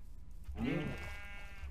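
A single sheep bleats in the game Minecraft, one drawn-out wavering baa lasting about a second, quiet and alone against faint background hiss.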